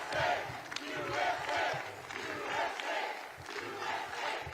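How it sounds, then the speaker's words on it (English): A large crowd at a Mike Lindell election speech cheers and shouts in rolling waves, loud and continuous, with voices blending into a roar. "He's just going to stand there and let people, like, cheer for him?"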